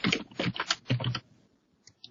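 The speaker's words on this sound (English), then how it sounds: "I'll go ahead and type a name here." Typing on a computer keyboard: a close burst of quick key clicks for about a second, then near silence with a couple of faint taps.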